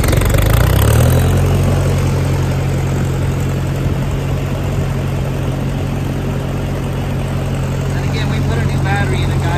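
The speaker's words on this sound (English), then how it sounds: "the little guy was idling right along" An old 1956 Massey Ferguson MH50 tractor engine idles nearby in a steady, low, even chug that holds constant throughout without revving.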